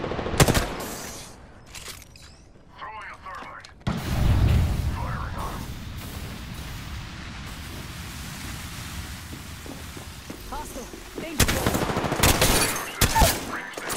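Gunfire in a military shooter video game with bug enemies, with bursts of shots and explosive blasts at the start and end, and a long stretch of rumbling, noisy combat in between, mixed with game sounds and some voices.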